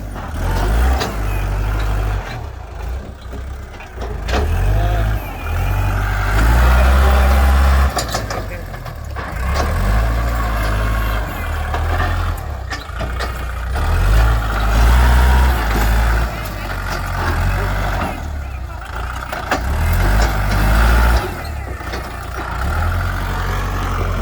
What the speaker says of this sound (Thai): เพราะว่ารถไถดันได้หมด